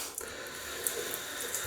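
Water runs from a tap into a sink while shaving lather is prepared with a soft brush, a thin steady trickle with a few light splashes and drips, faint and close.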